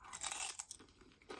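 Someone eats crunchy crisps from Brazil, making a few faint, close crunches and chewing sounds in short bursts with a pause between them.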